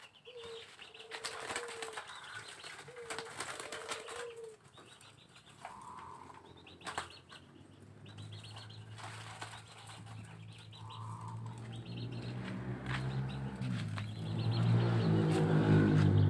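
A zebra dove, a colored Mega Mendung Majapahit perkutut, gives soft, low coos in repeated phrases, with bursts of wing flapping and rustling close by, growing busier toward the end.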